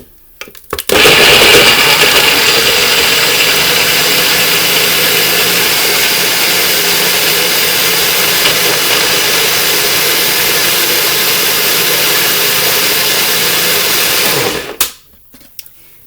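A blender making a green smoothie whirs loudly and steadily for about fourteen seconds, a dense grinding roar that starts abruptly and cuts off at the end.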